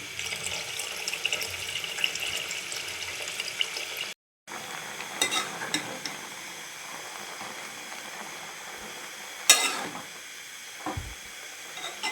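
Bottle gourd greens are washed under running water, with a steady splashing, trickling stream, close handling rustles and a brief silent gap partway through.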